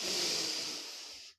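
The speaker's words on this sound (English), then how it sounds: "Take a deep breath in." A single deep inhalation through the nose, a soft airy rush that starts strongly and fades over about a second before stopping, close and alone.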